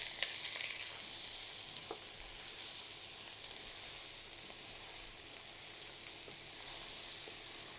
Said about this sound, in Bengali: আর এবার আমি দিয়ে দিব শাকগুলো